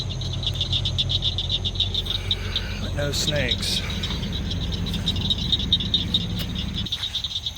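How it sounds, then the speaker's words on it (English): Many frogs croaking in a summer wetland, a dense steady chorus with insect-like trilling and a few louder close calls, while someone speaks briefly. "You got a lot of frogs going on"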